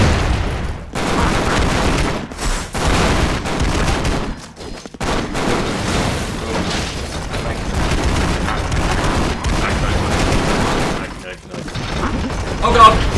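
Gunfire in Expendabros, a side-scrolling action shooter: continuous busy shooting and explosions, with clanking mechanical game sounds, running steadily throughout at moderate loudness.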